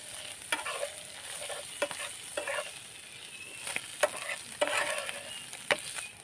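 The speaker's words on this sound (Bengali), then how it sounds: "এই পর্যায়ে আমি ভালোভাবে ভেজে নিচ্ছি।" Small prawn fritters fry in hot oil, with a steady sizzle broken by irregular stirring scrapes and clicks throughout, alone with no talk.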